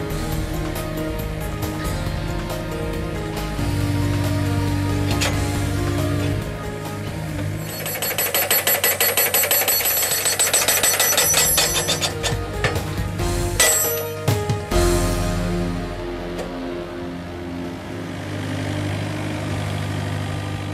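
A hydraulic post driver, an INL Post Drive, grips and pulls a fence post out of the ground. A steady engine runs throughout, with rattling metallic clinks and hydraulic strain building midway, then short sharp knocks.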